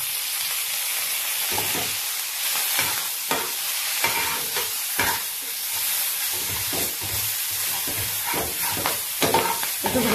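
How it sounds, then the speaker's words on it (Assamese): An ingredient for a taro (kochu) dish fries in mustard oil, sizzling steadily close up while a utensil scrapes and stirs the pan in irregular strokes, with no talk. "অকণমান লেলেকাই ভাজি ল'ম।"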